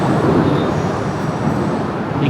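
A train rumbles past beneath an elevated rail line near Girard Avenue in Kensington, loud and close with a dense, steady roar, and a brief high whine near the end. No clear horn blast stands out.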